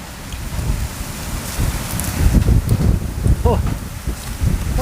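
Cold winter wind blowing outdoors in rural Thailand, a steady gusty rush with rustling leaves, loud and continuous, with a few brief voices in the background.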